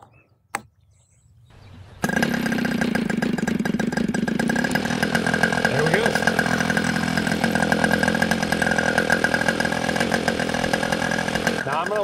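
A 2-cycle nitro RC airplane engine sputters as it is started, then runs at a loud, steady high-pitched buzz, close up, with no talk.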